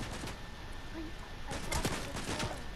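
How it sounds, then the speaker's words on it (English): Fortnite gunfire crackles in short irregular bursts over a steady game background, moderately loud, with a few scattered shots and low thuds. "they're shooting at the rock"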